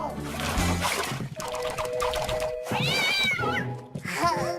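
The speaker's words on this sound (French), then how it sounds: "Tu es un méchant chat!" A cartoon cat meows and yowls in several loud, drawn-out cries that rise and bend in pitch, with splashing water and voices in between.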